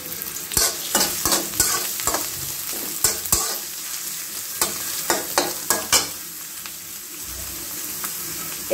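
Freshly chopped new-season onion sizzles in hot oil in a pan while a spatula scrapes and stirs it in sharp, irregular strokes. The sound is close and fairly loud, with no talking.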